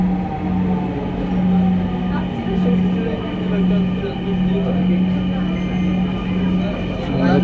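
A Dhaka metro rail train pulls away on the run from Uttara to Mirpur, heard from inside as a loud, steady electric hum and rumble with a sustained low drone that swells and eases in gentle waves.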